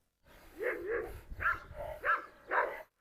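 A Doberman attacking a female dog, with several sharp, close barks and yelps in quick irregular bursts, loud and agitated, with no other sound between them.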